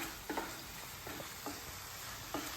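Soft-cooked potatoes and tomatoes with curry leaves and green chili stirred in a pan for sabudana khichdi, a faint continuous sizzle broken by a few quiet spoon scrapes.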